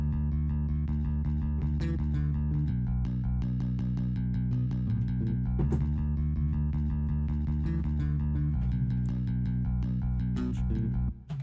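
A third guitar layer in an atmospheric music production, treated with EQ, OTT compression and reverb: a steady, dense guitar pattern of plucked notes and chords that plays continuously and alone before cutting off abruptly at the end.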